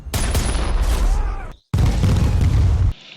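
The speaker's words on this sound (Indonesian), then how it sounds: "si Kevin meminta si Reaper meluncurkan bomnya" A bomb explosion in an action film battle scene, a loud close roaring blast with crackling debris, cut off briefly and then followed by a second sustained rumbling burst.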